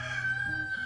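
A rooster crows loudly and close by in one sustained, drawn-out call with a strong ringing tone.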